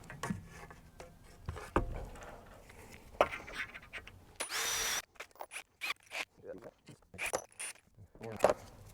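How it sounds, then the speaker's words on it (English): Power drill turning a countersinking bit into metal while fitting Rhino Rack roof rails to a 2021 VW Crafter van, with short bursts of drilling and a squealing whine, along with scraping, tool handling and nearby talk. "So I'm using a countersinking bit because I'm using countersunk screws, bolts."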